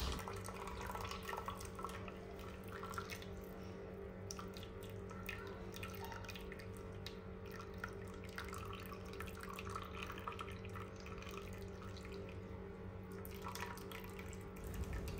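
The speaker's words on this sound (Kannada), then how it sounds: "ಈಗ ಸ್ವಲ್ಪ ನೀರನ್ನು ಸ್ಕ್ವೀಸ್ ಮಾಡಬೇಕು, ತುಂಬ ಬಿಸಿ ಇರುತ್ತೆ" Hot water squeezed out of freshly made homemade paneer wrapped in cotton cloth, a steady soft trickle and drip of liquid running throughout, fairly faint and close.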